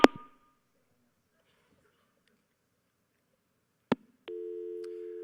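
A telephone line: a sharp handset click, a long silence, another click, then a steady electronic line tone begins and holds to the end, near and clear with nobody speaking.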